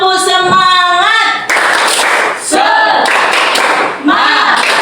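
A group in a classroom does a rhythmic 'tepuk semangat' cheer: loud bursts of patterned clapping alternate with voices chanting together, and the claps and chants repeat in short rounds.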